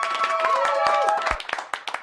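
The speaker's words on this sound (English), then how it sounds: "I love the clapping and the woohoo" Scattered clapping and cheering from a live online event, with sharp individual hand claps and whooping voices, thinning into sparse, separate claps toward the end.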